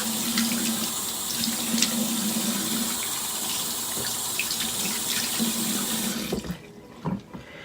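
Lukewarm water runs from a bathroom tap during face washing, a steady close splashing stream for about six seconds that then cuts off, leaving a few faint drips and handling noises.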